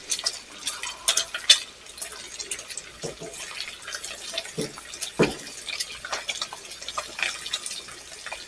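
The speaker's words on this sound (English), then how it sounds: "now let's put some of the onions in." Chopped onions going into a pan to sweat for baked beans, with soft sizzling, scraping and stirring clatter from a utensil, a few sharper knocks standing out over steady low kitchen noise.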